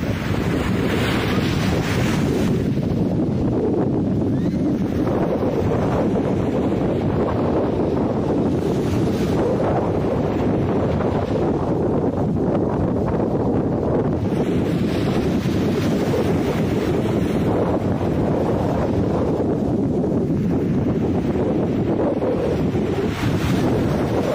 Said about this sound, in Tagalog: na-relax kayo sa hangin at sa alon ng dagat sa pagkumpas ng bawat alon dito sa may dalampasigan